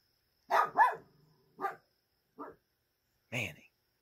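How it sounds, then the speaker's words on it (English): A dog at a family home on vacation in Durham barks sharply and close by, giving a quick double bark followed by three more single barks spaced out over a few seconds. "Barking at his own family."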